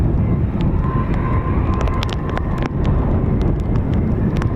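Military aircraft taxiing at an RAF airbase, a steady broad engine roar with a faint whine, heard from a distance under wind noise and outdoor ambience.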